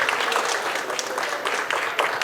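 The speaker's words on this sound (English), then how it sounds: "So please give them a round of applause." An audience at a school parent and family engagement meeting gives a sustained round of applause, a dense even clapping that fills the room with no talk over it.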